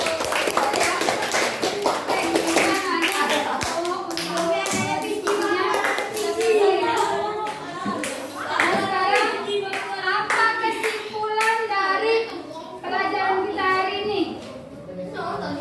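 A classroom of children claps together in rhythmic bursts of patterned, sharp hand claps, loud and close, with young voices mixed in over about fifteen seconds.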